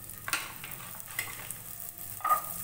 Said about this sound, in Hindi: अब गाजर फ्राई कर लेंगे